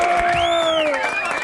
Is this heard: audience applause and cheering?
yes